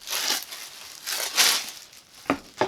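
Plastic wrapping around a platform pump shoe crinkles in several short bursts as it is handled during unboxing, close and fairly loud with quiet gaps between.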